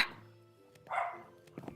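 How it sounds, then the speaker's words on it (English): A few short, muffled dog barks and yelps from a video game, fairly quiet, spaced across under a second of otherwise faint background. "excuse my dog making sounds"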